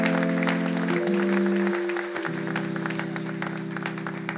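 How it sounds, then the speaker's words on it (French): A church congregation claps steadily for Jesus during a Sunday service, the rhythmic hand claps running under sustained keyboard chords that shift partway through. "Acclame pour Jésus, acclame,"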